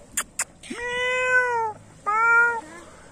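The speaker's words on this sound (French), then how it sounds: "Et voilà, encore des chats." A cat meows twice near a harbour with boats under repair, one long drawn-out meow followed by a shorter one, close and clear over quiet background.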